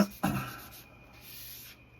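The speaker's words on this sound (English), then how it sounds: "Gently over the ink, scrub the whites, and always stroke out." Brisk rubbing strokes of a cloth or cleaner scrubbing grime off a silver age comic book cover, close and soft, with a brief louder swipe near the start and a long light stroke after.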